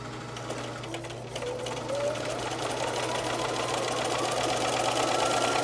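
A sewing machine stitches a fitted sheet made from a flat sheet, running in a steady, fast mechanical whir that grows slightly louder and holds at close range, with no talk over it.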